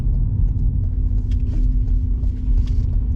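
Steady low road rumble and engine drone from a 1997 Mercedes-Benz 280 convertible cruising along, continuous and fairly loud with no talk.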